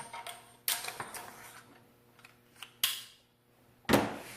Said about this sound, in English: So now we reinstall our barrel bands.